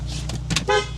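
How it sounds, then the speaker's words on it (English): A single short, close horn beep sounds from an Abarth 124 Spider roadster, a quick bright tone over low engine hum. "I was thinking who beeped, but it was me."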